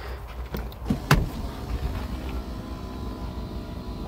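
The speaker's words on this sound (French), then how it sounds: "Et puis vous pouvez voir que les sièges, ils avancent tout seuls," Electric seats in a 1998 Peugeot 406 coupé slide forward with a low, steady motor whir inside the car, preceded by a couple of brief clicks and a knock.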